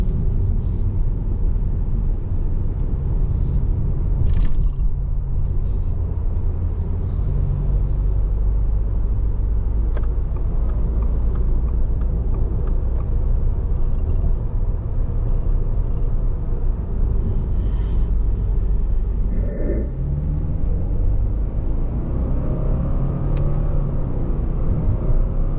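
A 2024 Subaru Impreza RS on the road, its engine a steady low rumble with road noise throughout, rising slightly as it shifts through gears while driving, loud and continuous with no voices.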